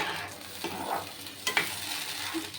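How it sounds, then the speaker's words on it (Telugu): Sago pudding being stirred in a pan on the stove, with soft scraping strokes and a light sizzle running through, a few sharper clinks near the middle, close and fairly quiet. "అది ఉడికేంత వరకు ఇట్లా కలుపుకొని ఉడికించుకుందాం"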